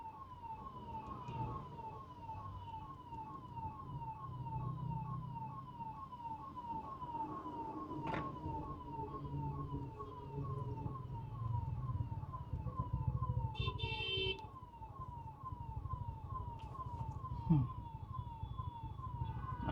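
An ambulance siren wails in a steady repeating rise and fall, stuck in road traffic, heard from inside a moving Hyundai i20 N Line over engine and road rumble.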